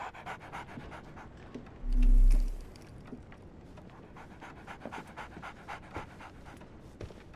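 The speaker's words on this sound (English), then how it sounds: "So, Barnes has a dog now" In the Sherlock Holmes: The Awakened video game, a dog pants close by in quick, steady breaths that continue throughout, with one brief louder low thump partway through.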